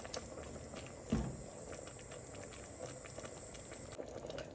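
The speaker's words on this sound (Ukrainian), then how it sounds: "Коли овочі подружаться, протушаться хвилинку другу, додамо сюди зелений горошок." A vegetable stew simmering in a pan, with the vegetables stewing together before green peas go in: a faint steady bubbling hiss, quiet and continuous, with one soft knock near the start.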